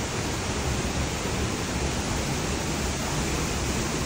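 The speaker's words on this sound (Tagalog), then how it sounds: "Tapos ang maririnig mo lang is yung bagsak ng tubig galing sa taas pababa." Kaiate Falls pours down from above in a steady, dense roar of falling water, loud and close, with no break or voices through the stretch.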